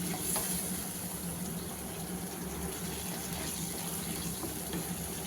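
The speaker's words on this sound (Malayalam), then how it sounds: "ആവശ്യത്തിന് വെള്ളം ഒഴിച്ച്" Water poured from a vessel into fish curry masala paste in a pan for a Kottayam-style fish curry, a steady close gushing splash that runs without a break and has no talk over it.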